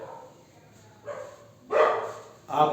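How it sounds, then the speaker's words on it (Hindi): A dog barks outdoors in a series of muffled woofs: one softer bark, then two louder ones, heard from indoors at a distance. "बाहर डॉग भौंक रहा है"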